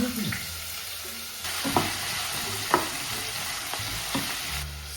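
Potatoes frying in a pan with mustard seeds, cumin and curry leaves give a steady sizzle, with a few sharp scrapes of a spoon stirring through it.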